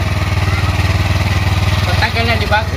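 A motorcycle engine fitted with a power tuner idles and revs steadily close by in a garage, a low rhythmic thrum with a brief change in pitch near the end.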